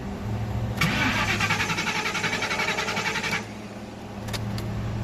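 A car engine is cranked with a rapid, pulsing starter whir that stumbles and fails to catch, then drops to a quieter murmur with a few short clicks afterward; close and loud, no speech.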